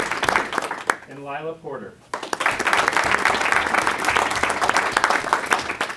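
An audience at a Lyons Township High School District school board meeting claps in a full, steady round of applause that fills the room after a spoken name is read out.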